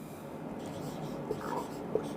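An equation is written on a classroom board, with soft scratchy strokes and a couple of light taps under quiet room noise.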